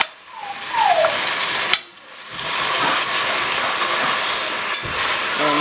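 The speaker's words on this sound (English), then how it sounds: "I'm just going to continue broiling it with my spoon" Spicy loose meat frying on high heat in a pan while a spoon stirs it: a steady, close sizzle with a few brief scrapes and clinks, and no talk.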